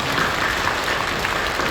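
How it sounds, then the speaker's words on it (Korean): Applause from a church congregation during a worship service, a steady dense wash of clapping that stays even in level throughout, no voices on top. "박수로 격려해 주시죠"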